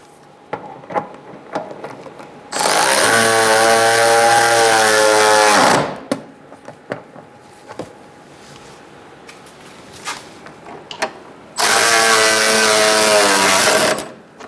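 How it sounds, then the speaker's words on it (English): A 12mm socket on a power driver tightens water pump bolts on a 2014-2018 Subaru Forester. Two loud, sustained whirring runs of about three seconds each are separated by quieter clinks and handling noises. "we're going to use a 12mm socket to tighten up these 4 bolts, 3 bolts"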